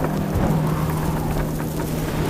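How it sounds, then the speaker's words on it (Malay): Heavy rain pours in a cartoon storm with thunder, a dense steady hiss and rumble with a low sustained tone underneath, no speech. "Macam ribut puting beliung"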